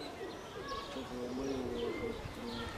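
Domestic pigeons cooing in soft, repeated low calls with some chirps, set against steady outdoor background noise, no voices.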